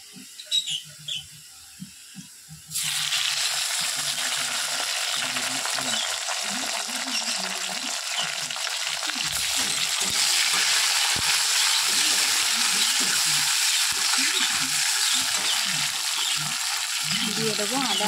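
Fried onion with freshly added tomato sizzles in a pan, a few soft clanks first, then a sudden loud burst of hissing that stays steady and dense, with stirring scrapes running underneath.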